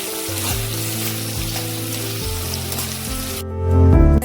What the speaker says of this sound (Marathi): कांदा, टोमॅटो आणि चांगलं व्यवस्थित परतून घ्यायचं